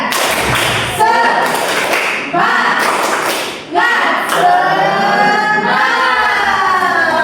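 A school class joins in a rhythmic spirit clap, a burst of patterned claps and thumps with crowd noise from the children, close and loud in a room, with short pauses between rounds.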